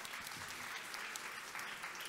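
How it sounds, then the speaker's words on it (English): Faint, steady applause from a lecture audience greeting a botanic garden conservation scientist, a continuous even wash of many hands clapping heard at a distance. "Please give him a round of applause"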